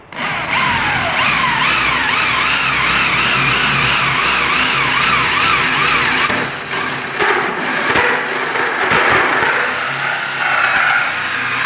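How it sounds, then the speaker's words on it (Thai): A power drill with a hole saw whines loudly and steadily up close, its pitch wavering as it bites into a wooden door for a doorknob, then stuttering and dipping near the end. "เป็นดอกสว่านอยู่ตัวในก็ทำการเจาะไปเลยครับ"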